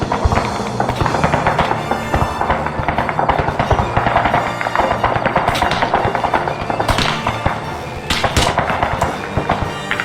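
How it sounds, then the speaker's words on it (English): Rapid gunfire cracks overhead in a war video game, dense bursts of shots and tracer fire ringing out continuously, loud and close with scattered sharper reports. "definitely some shots going overhead"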